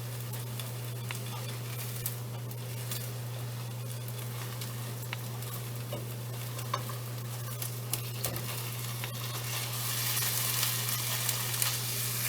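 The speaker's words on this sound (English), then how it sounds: "You can hear the sizzle." Steady, fairly quiet sizzling from an omelette with hamburger in a frying pan, with occasional small pops and crackles over a constant low hum.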